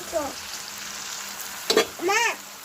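Rupchanda fish frying in hot oil for a crispy fry, a steady close sizzle with a sharp crackle, under a couple of short voices.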